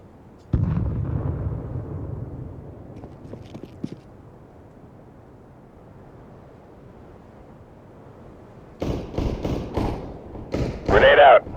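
A grenade blast in Counter-Strike on the dust2 map: one loud, close explosion near the start with a rumbling tail, then quiet, and later a tight cluster of sharp, loud bursts near the end.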